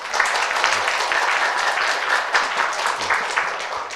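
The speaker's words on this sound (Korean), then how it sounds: "패널 분들께 다시 한번 큰 박수 부탁드립니다" Audience applause at a graduate school admissions information session, thanking the panel: a dense, steady wash of many hands clapping together at full strength, with no speech over it.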